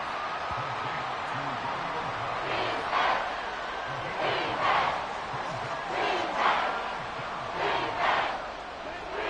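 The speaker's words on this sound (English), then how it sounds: "This crowd turning up the decibel level." A stadium crowd in the Madden 24 football video game roars and cheers in repeated swelling waves over a steady background din, with faint talk underneath.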